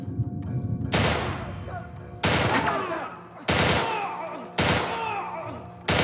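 Loud gunfire in The Last of Us on PS5: four heavy, sharply separated shots about a second apart, each with a long echoing tail, with no talk over them.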